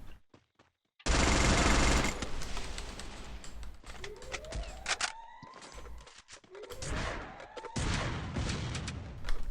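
Gunfire from the Free Fire mobile shooter game breaks in after a second of quiet and continues as dense, loud, rapid bursts, with short whistling and chirping effects layered over the shots.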